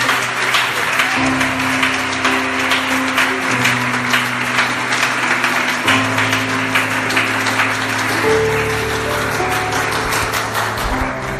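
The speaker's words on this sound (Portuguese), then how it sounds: "dê uma salva de palmas para você" A congregation at a church sermon breaks into sustained applause, a thick, even roar of clapping lasting throughout, with a sustained organ or keyboard chord progression droning underneath.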